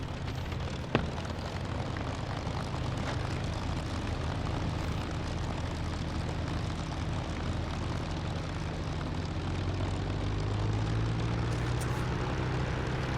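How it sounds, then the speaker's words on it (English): P-51 Mustang piston engine in the DCS flight simulator idles after a cold start, a steady droning propeller rumble with a low throbbing tone that slowly rises in pitch, continuous and fairly close, with no talking. "I love cold starting the planes"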